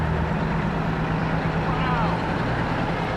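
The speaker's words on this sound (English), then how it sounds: "still got more trucks to come" Trucks, including fire-rescue vehicles, rumble past in a Fourth of July parade in Alburgh. A steady, nearby engine drone continues under an announcer who talks over the procession.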